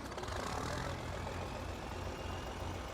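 A tractor engine in a farming video game runs in a steady, continuous drone with low rumble and broad mechanical noise, moderately loud and alone, with no talking.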